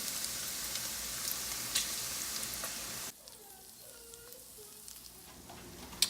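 Bacon and onions frying in a pan for BBQ baked beans, a steady close sizzle that drops abruptly halfway through to a quieter, thinner crackle with faint scraping.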